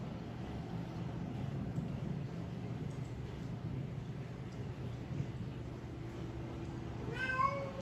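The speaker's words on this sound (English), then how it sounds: "I know, Kitty. I know." A house cat gives one short rising meow near the end, close by, over a steady low rumble of background noise that fills the whole stretch.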